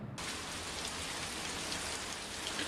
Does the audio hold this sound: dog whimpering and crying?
no